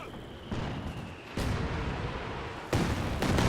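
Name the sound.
artillery fire hitting a forward base in Company of Heroes 2 video game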